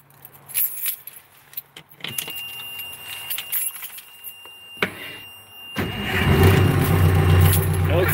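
After a filter change, keys jangle close by and then a car engine fires up immediately without cranking, settling into a loud, steady idle.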